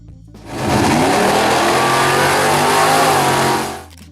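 A 1971 AMC Javelin AMX with a 401 V8 revs up hard, its loud growling roar swelling in quickly, holding steady for a few seconds close by, then dropping away.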